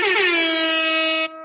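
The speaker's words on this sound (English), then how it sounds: "If so, let me hear an air horn." A single loud, sustained blast of an air horn, a bright brassy tone holding for over a second before cutting off abruptly.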